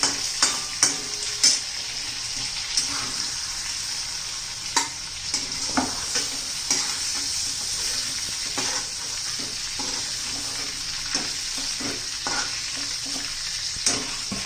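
Steady sizzling of food sautéing in hot oil while making prawn masala, with frequent scraping and clacking of a spoon stirring the pan throughout.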